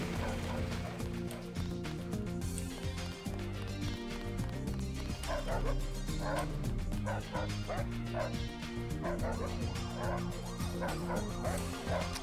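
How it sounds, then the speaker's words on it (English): A dog barks repeatedly in the video game Deus Ex, with yips and whimpers mixed into a dense, loud in-game soundscape of music and effects. "I mean, the dog in there could be barking"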